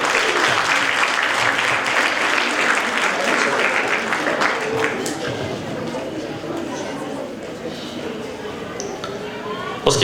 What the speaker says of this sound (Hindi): और खुद रविंद्र के लिए जोरदार तालियां